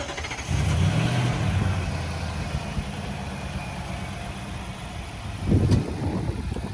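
A 2021 Nissan Titan Pro 4X pickup engine starting by remote start, cranking and catching into a loud, steady idle with a brief rise in revs near the end.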